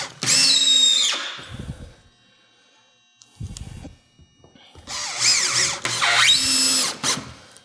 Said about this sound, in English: So then we'll come along this edge, put a couple screws on here.